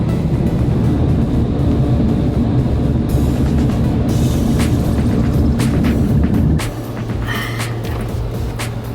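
A car wash air dryer blasts with a loud, steady roar and broad rushing noise, dropping slightly in level near the end.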